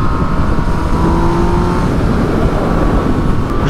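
Yamaha MT-09 motorcycle accelerating hard on an expressway, a loud, steady engine roar with rising revs and strong wind rush, heard close and without any talking.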